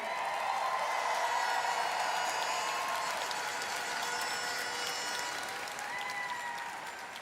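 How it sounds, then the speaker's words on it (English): Sustained applause from a crowd, a dense wash of clapping that holds steady and then gradually thins toward the end. "Please give a round of applause for Paula Sugar."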